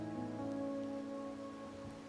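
Steady, soft rain falls in the video game Wuthering Waves, a faint continuous hiss under sustained, gentle musical tones.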